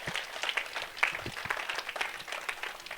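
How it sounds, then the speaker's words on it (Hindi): A congregation at a Christian seminar applauds, a dense, even patter of many hands at moderate distance, sustained throughout with a few louder claps standing out. "आप ताली मरेंगे तो उसके लिए,"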